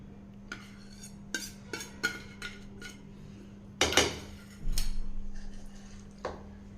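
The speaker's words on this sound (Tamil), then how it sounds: "இப்போ சேர்த்துட்டு கலந்துக்கலாங்க மசாலா வந்து நல்லா கரெக்டான லெவலில் கலக்கி எடுத்தோம்னா" A spoon scrapes and clinks in a bowl while mixing bread toast masala with grated paneer, giving a few scattered taps, then a burst of clattering and a short grinding stir, close and fairly quiet, with no one speaking.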